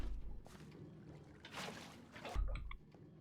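Water placed in a Minecraft world gives a short rushing, splashing wash over faint background noise, with a brief louder swell near the end.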